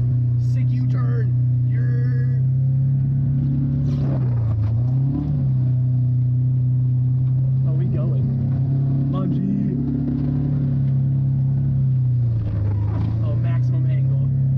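BMW E36 drifting a 180 on slushy snow, its engine droning loud and steady with pitch swells as the throttle rises and falls, while people talk over it.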